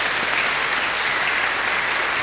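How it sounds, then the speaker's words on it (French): A church congregation at a French-language prayer service applauds Jesus: steady, loud, dense clapping that fills the room without a break. "Est-ce qu'on peut acclamer Jésus ce matin?"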